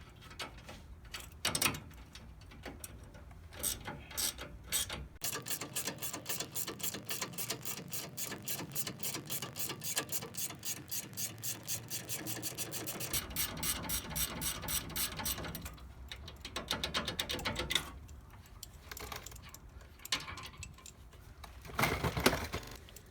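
Ratchet wrench with 8mm and 18mm sockets loosening the sway bar bolts on a 2017 Ford F-150, rapid close clicking in long runs, pausing briefly between bursts, loud and nearby with no talking.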